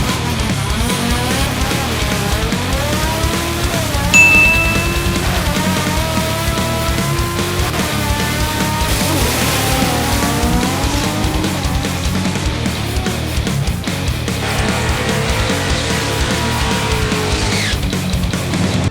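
A Honda K20 engine screams on a dyno, revs climbing repeatedly in long rising sweeps to a high wail and dropping back, loud and close with no talking.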